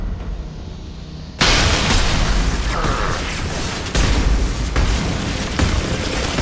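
Rocket explosions in the Mass Effect 2 video game, a sudden heavy boom followed by sustained loud blasts and rumbling, with further impacts landing at intervals.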